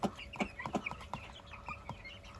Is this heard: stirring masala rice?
no